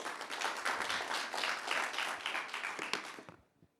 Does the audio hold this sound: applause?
yes